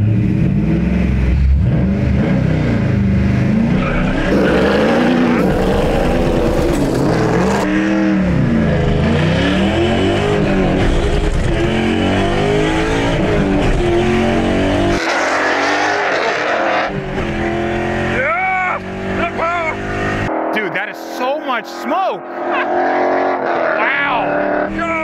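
A car engine revs hard and roars up and down in pitch as tires spin and screech, loud and close, easing off near the end.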